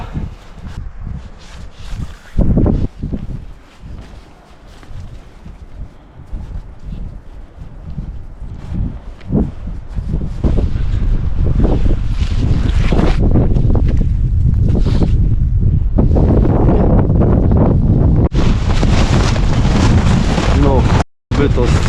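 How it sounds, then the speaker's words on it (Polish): Strong mountain wind buffets the microphone in loud, broadband gusts that build to a sustained roar in the second half, with brief talk over it near the start. "tego najbardziej nie lubię w górach. Właśnie wiatru."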